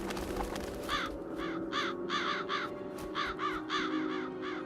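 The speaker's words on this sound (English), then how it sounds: "That should lure the crows away. There they come." Crows caw in the adventure game The Dark Eye: Chains of Satinav, a flock giving a rapid series of harsh calls over a steady low background hum.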